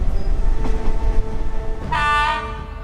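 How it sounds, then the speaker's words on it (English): A train runs along a railway line in Thailand, its rumble and rattle steady and close, ending in a loud, sustained horn blast. "Soon the train was encountering tunnels."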